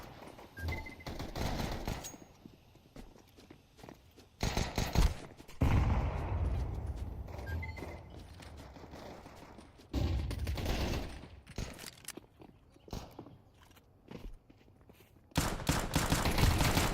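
In a bomb-defusal shooter game, a MAC-10 submachine gun fires rapid automatic bursts. The loud, dense volleys repeat several times and are separated by quieter gaps.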